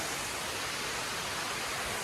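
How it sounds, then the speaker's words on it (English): Wolf Creek Falls in Chimney Rock State Park pours with good flow into a cliff-walled hollow, a steady, loud broadband rush of falling water with no break and no voices. "Really nice waterfall, good flow."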